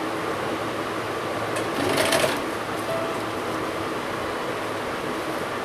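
A sewing machine runs steadily, stitching a small Bal Gopal outfit near the neckline, a continuous close whir at low level with a brief louder burst partway through.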